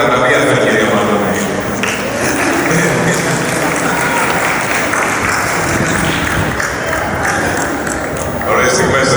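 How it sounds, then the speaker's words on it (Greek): Loud, dense applause fills a hall during an annual awards ceremony at the Zappeion Megaron in Greece, sustained throughout with voices speaking over it. "Ένα χειροκρότημα για τα βραβεία"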